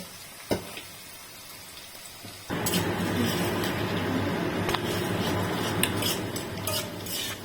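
Sliced onion hits a pan of oil over medium heat, starting a sudden steady sizzle after a short quiet spell with a light knock, then frying on with occasional stirring clinks and no talk.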